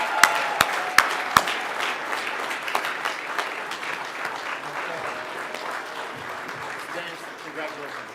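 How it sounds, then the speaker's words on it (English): A crowd at an anniversary celebration claps steadily, with a few sharp loud claps at the start, then fading gradually into scattered clapping. "let's give him a round of applause"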